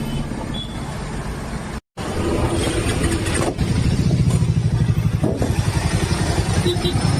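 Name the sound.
motorcycle engine running, stopped on road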